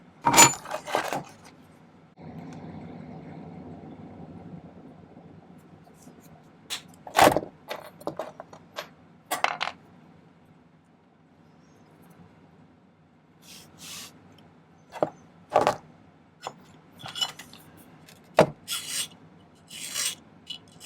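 Silver sheet being cut for a coin locket, with sharp rasping and metallic snips in scattered bursts, some loud and close, separated by quieter stretches of faint handling.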